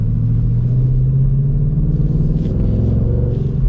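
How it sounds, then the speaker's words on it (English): A 2025 Ford Mustang 60th Anniversary Edition V8 rumbles steadily and loudly up close, a deep continuous low growl with a slight swell in the second half. "Gotta love the V8 torque."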